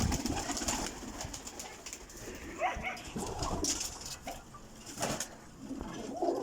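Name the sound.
pigeons cooing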